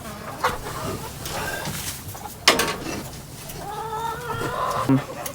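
Chickens cluck and squawk nearby, with a sharp louder call midway and busy farmyard background noise.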